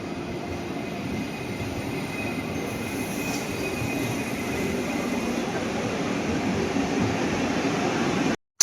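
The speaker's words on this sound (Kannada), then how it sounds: "ನಮ್ಮ ಟ್ರೈನ್ ಈಗ ಅರೈವಲ್ ಆಯ್ತು ನೋಡಿ" A Vande Bharat semi high speed train stands at SMVT station, giving a steady low rumble with high squealing wheel tones and a faint whistle-like hum, continuous and fairly loud before cutting off sharply at the end.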